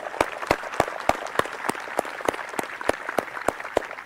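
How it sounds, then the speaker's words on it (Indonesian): Rhythmic, evenly spaced claps from an assembled group at a Paskibraka flag-raising troop ceremony in Badung, Bali, sharp and regular like unison clapping, moderately loud. "Kita berikan tepuk tangan buat beliau."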